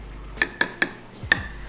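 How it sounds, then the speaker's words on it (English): Metal spoon clinking against a mug of homemade hot cacao, four sharp taps in quick succession with a short pause before the last, close and clear in a quiet room. "oh, I gotta stir it a bit"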